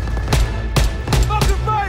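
Sharp bursts of machine gun fire in the World War II video game Call of Duty WW2 crack out at irregular intervals, four loud shots or short bursts close by over a steady rumbling background.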